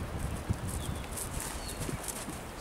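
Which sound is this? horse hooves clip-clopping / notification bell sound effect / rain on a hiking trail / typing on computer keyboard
horse hooves clip-clopping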